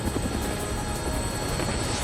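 Helicopter in the video game Dead Rising, a steady dense rotor-and-engine roar that fills the whole stretch, loud and continuous with a faint rhythmic chop, no talk over it.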